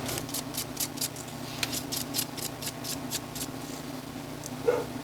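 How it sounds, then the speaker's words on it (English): Hand sanding of epoxy filler and the inside of a lightsaber escutcheon with 320 grit sandpaper: a steady run of quick, rhythmic scratchy strokes, close and moderately loud, with no talking. "sand the inside of your escutcheon and the top side of the epoxy"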